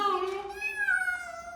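A cat in an abandoned house gives one drawn-out, wavering meow, close and fairly loud, with a rising and falling pitch and no other sounds.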